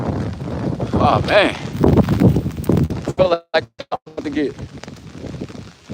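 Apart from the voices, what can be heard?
strong wind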